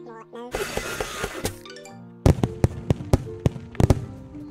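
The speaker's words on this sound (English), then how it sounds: "And fireworks." Video game fireworks in Moose Lost in the Woods: a noisy crackling burst followed by a run of sharp pops and bangs at irregular intervals, mixed with chiming musical game tones.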